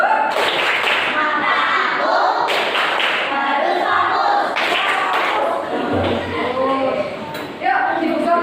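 Schoolchildren in a classroom perform a rhythmic focus-clapping chant, with group claps and thuds in patterned bursts mixed with their chanting voices, close and fairly loud.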